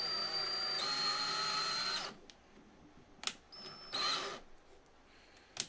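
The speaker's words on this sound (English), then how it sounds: "Just drilling out these holes here." A power drill bores out holes in 3D-printed parts for a Voron V2.4 printer gantry, in a long whining burst followed by a few shorter, separate bursts at close range.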